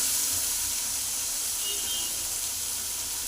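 Chopped tomato frying with green chillies in a pan for chicken gravy: a steady, close, loud hiss and sizzle with no pauses, and no voices.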